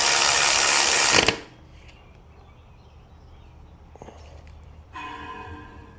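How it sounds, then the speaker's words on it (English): A running LS engine with a worn idler pulley bearing gives off a loud, harsh whirring grind for just over a second before cutting out to near quiet, with a few faint clicks afterward. "That bearing sounds terrible, so that'll be a later problem. But that is your idler pulley."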